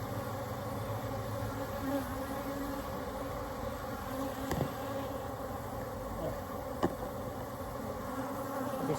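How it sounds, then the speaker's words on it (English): Honey bees buzz steadily around an open single brood box during a quick hive inspection, a continuous faint drone with occasional soft knocks from handling frames. "get our half cup of bees"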